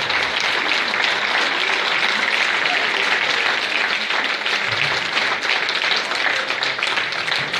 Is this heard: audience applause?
yes